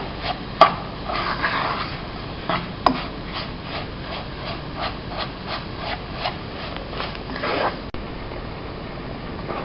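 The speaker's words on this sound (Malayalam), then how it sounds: "അതുവരെ ചെറിയ ഫ്ലെയിമിൽ ഇളക്കിക്കൊണ്ടിരിക്കണം." Burfi of sugar, gram flour and coconut stirred in a pan over a low flame, a repeated rhythmic scraping and rubbing with a couple of sharp knocks, close and alone.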